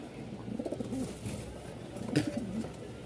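Lahori Sheraji pigeons coo softly and repeatedly at a farm in Mirpur-1, Dhaka, low throaty calls overlapping against a quiet background hum.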